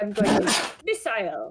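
A sharp human sneeze bursts out near the start, followed by brief spoken words from people at a tabletop game session.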